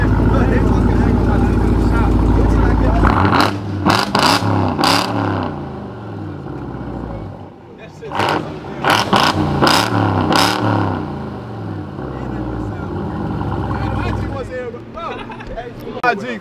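A Ford Mustang GT350 engine revs loudly, with a heavy low rumble at the start and then several sharp rising bursts, while people talk over it.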